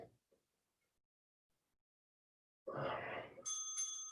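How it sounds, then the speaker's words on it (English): Workout interval timer bell during a bodyweight bootcamp class, a bright ringing tone that sounds after a burst of breathy exertion and sustains to the end, fairly loud against an otherwise quiet room. "There's the bell."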